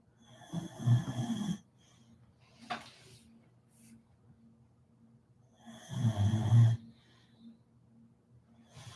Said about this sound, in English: I never seen a dog that snores so much in my life.